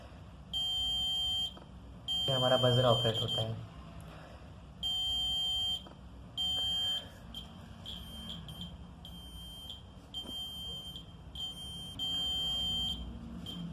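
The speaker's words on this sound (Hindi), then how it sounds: "आउटपुट में वोल्टेज मिलते हैं, उससे हमारा बजर ऑपरेट होता है।" A buzzer on a homemade LDR dark-sensor circuit sounds in repeated short electronic beeps, several clear bursts with uneven gaps, close and loud against a quiet room.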